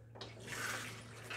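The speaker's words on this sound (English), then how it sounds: "So let's test it out to see how it pumps." Water from a hand-pumped portable shop sink faucet splashes and runs into the basin in a short, quiet gush after a brief pause.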